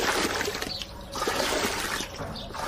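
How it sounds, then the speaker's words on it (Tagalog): Steady running water from someone bathing, a continuous close splashing trickle heard alone. "Hindi mo ba naririnig yung tubig? Naliligo ako dito, oh."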